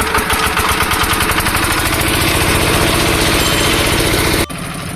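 A small pull-cord engine on a dragon fruit farm, shown right after being primed with fuel, runs loud and close at a steady idle with a fast, even chug, then drops abruptly to a lower, quieter note near the end.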